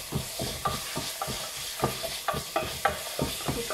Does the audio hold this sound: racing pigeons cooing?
no